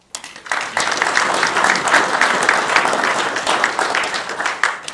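Audience applause at a local historical society event in Almelo, a dense, loud, sustained burst of many hands clapping that starts abruptly and continues evenly to the end.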